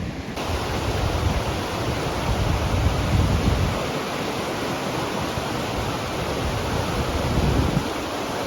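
Steady rushing water of Bear Creek near the Flathead River, flowing continuously nearby, a broad even roar with no voices.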